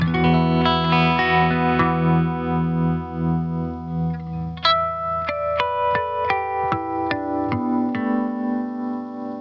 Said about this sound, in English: Let's go for a slower tremolo.